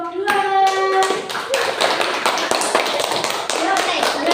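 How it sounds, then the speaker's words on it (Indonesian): Children in a classroom clap for a presenting group, starting with sharp, close hand claps and settling into rhythmic, scattered clapping, while a voice calls out briefly at the start. "Sekarang tepuk tangan untuk kelompok 2."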